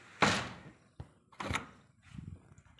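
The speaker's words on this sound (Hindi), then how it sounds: "यहाँ का ये दरवाज़ा लॉक कर जाते हैं" A household door is shut and locked with several close knocks and thunks: a sharp hit, a lighter click, another bang, then softer rattling handling noises.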